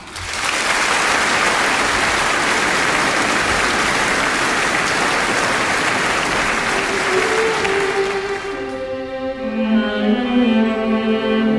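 An audience gives loud, sustained applause for a singer about to perform a song, dense clapping that holds steady for several seconds, then thins out as sustained musical notes rise underneath.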